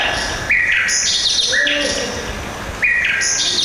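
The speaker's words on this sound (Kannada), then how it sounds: "ಹಕ್ಕಿಗಳ ಚಿಲಿಪಿಲಿ ನಾದ" Bird chirps played as a sound effect in a school stage play about Gautama Buddha repeat in bright, loud bursts, with a short warbling call between them over a hissy background.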